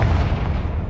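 In Hogwarts Legacy, a Confringo blasting spell detonates with a short, loud, booming burst of explosive noise that fills the whole moment.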